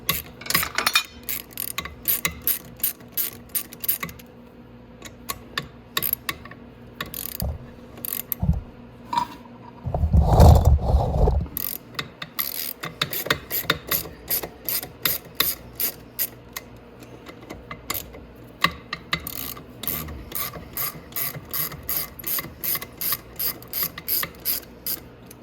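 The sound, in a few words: ratchet removing sprocket bolts on Venom Grizzly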